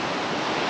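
Sea waves wash onto a natural beach in a steady, loud, broadband rush, heard close with no voices.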